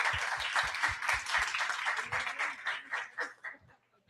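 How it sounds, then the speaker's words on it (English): An audience at a teacher development seminar applauds, a steady wash of many hands clapping, near and full at first, thinning out and fading to silence over a few seconds. "I would like you all to give a cheer of applause to Camila"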